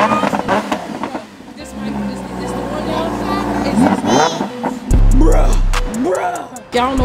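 Lamborghini Huracan engine idling with a deep rumble that rises into a sharp rev, heard up close beneath excited talking and shouting from several people.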